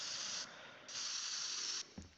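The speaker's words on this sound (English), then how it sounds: "Classic spray paint." A spray paint can hisses in the video game Teardown, two bursts of bright airy spraying separated by a short gap, ending with a small clunk.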